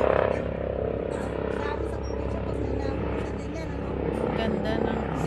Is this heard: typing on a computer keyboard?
no